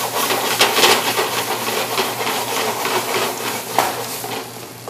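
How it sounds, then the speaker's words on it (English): Penne pasta goes into a pan and is stirred, with repeated scraping and clattering strokes over a steady background hum and sizzle, no speech. "So in goes the penne pasta."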